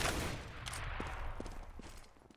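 Gunfire from a competitive CS:GO match comes as a dense burst of rapid shots at the start, then scattered single cracks over a busy background, fading out toward the end.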